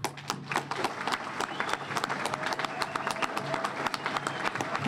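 At a Boston Fire Department recruits graduation ceremony, a crowd claps in a busy, uneven patter of individual hands, moderately loud and continuing throughout, with no talking over it.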